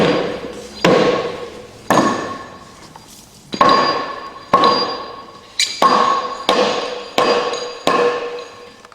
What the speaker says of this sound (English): To do that, we'll use our claw hammer. Just hit it in a sliding motion away from the crate.